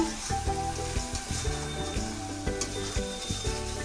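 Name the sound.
spiced masala sizzling in pan as hot water is added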